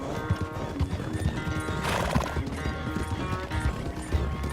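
Horse hooves clip-clopping at a gallop in Red Dead Redemption 2, with occasional neighs and whinnies over a steady, close, continuous rhythm of game sound.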